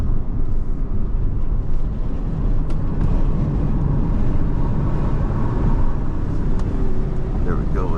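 A Toyota Prius PHEV accelerates hard on a race track, a steady loud drone of engine and road roar with rushing wind noise throughout, and someone speaks over it.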